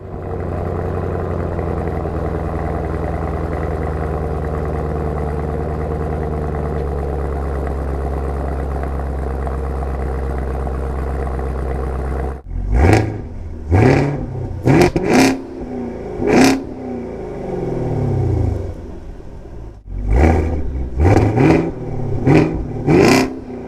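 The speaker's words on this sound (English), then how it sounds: "that revving wasn't as awesome as I thought it was going to be" A Camaro ZL1 1LE engine drones steadily at idle, then a series of sharp, loud revs rise and drop one after another with brief pauses.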